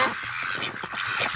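Several loud, nasal honking calls from Muscovy ducks close by, overlapping in quick succession with no talking.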